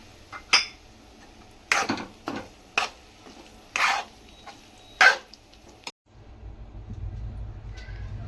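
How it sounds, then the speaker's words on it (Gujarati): Paneer being stirred into a sandwich filling in a bowl, with a spoon knocking and scraping against the dish in short, separate bursts of clinks and rattles, fairly close, followed by a low steady hum. "પનીરને સરખી રીતે મિક્સ કરી દીધું છે."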